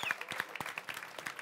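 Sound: audience applause

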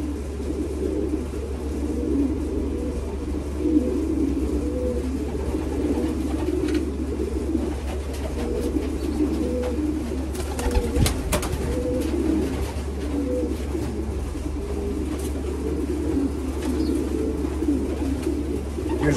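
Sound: racing pigeons cooing

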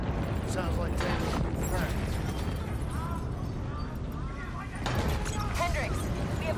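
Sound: explosions across facility in video game Black Ops 3

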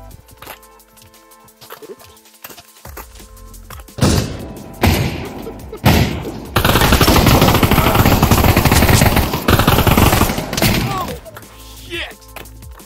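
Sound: gunfire in video game Pavlov VR

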